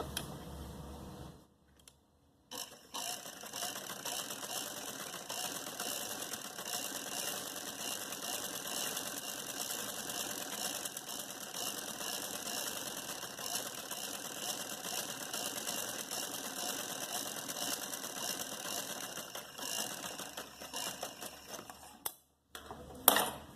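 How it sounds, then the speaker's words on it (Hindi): Sewing machine stitching lines along a salwar hem, a continuous fast mechanical whir and clatter held for about twenty seconds, with brief stops at the start and end. "अब इसी फासले की एक और लाइन यहाँ मैं सिलाई करूँगी।"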